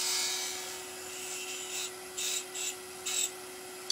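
A skew chisel takes a light side scrape across wood spinning on a lathe, heard as several short bursts of rasping, hissing noise over a steady motor hum.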